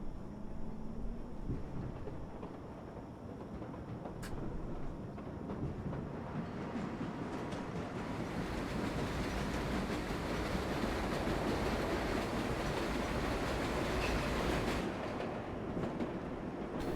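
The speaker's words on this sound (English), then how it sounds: "This is the number 7 local train to Main Street" A No. 7 local subway train in the video game World of Subways 4 runs along the track with a steady rumbling roar and faint rail clatter, growing slightly louder over time.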